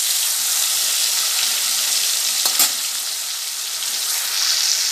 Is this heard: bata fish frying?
yes